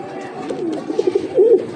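Red Cigar fancy pigeons give soft, close, throaty cooing, a brief run of low rolling coos that rises slightly at the end.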